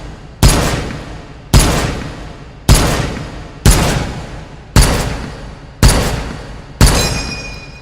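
A gun fires seven loud, evenly spaced shots, each with a sharp crack and a decaying ring, and the final shot carries a distinct metallic ding as the empty magazine ejects.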